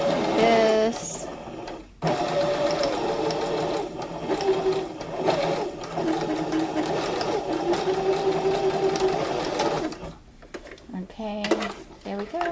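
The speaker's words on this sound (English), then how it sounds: "I do forward and back a few times because that helps to like make a knot in the thread." Sewing machine stitching a pleated fabric mask, running in steady bursts forward and back with brief pauses between passes, close and fairly loud, with a voice talking over parts of it.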